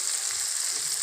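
Ginger-garlic paste fries with onion and tomato in a hot pan, giving a steady, close sizzle with no voices.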